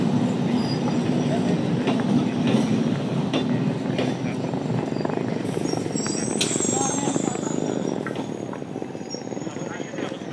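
A train rumbles past at Tollygunge station, beside Rabindra Sarobar, a loud continuous roar of wheels on rails with rattling carriage clatter and a thin metallic squeal, easing slightly toward the end.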